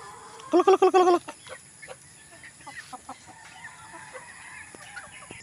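Chicks and chickens cluck close by in a short burst of loud, rapid clucks, followed by scattered softer peeps and clucks over a quiet background.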